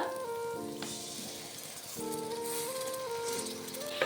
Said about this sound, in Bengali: আবারও খুব ভালোভাবে কষিয়ে নেবো মশলা খুব ভালোভাবে কষে নিয়েছি